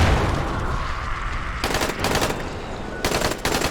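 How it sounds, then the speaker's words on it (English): Machine-gun fire in the video game Dying Light: two sharp bursts of rapid automatic shots cut through a steady rumbling background, each lasting under half a second, near and loud. "So who's over here shooting?"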